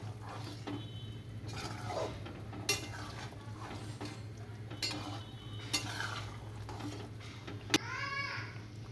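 A spoon stirs lentil fritter curry with cumin paste in a pan, giving soft scraping strokes and light clinks at irregular moments over a low, steady background, fairly faint, with no talking.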